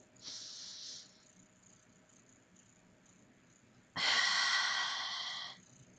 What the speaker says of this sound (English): Big breath in through your nose. Big breath out through your mouth.